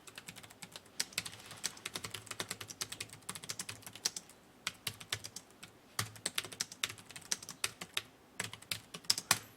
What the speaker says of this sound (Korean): 편하게 다 타이핑 치시면 됩니다.